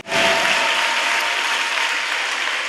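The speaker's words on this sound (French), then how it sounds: "Et tu acclames le Seigneur Jésus ce matin." A church congregation applauding and acclaiming the Lord during a French-language service, with sustained dense clapping filling the space throughout and a faint cheer or voice mixed in.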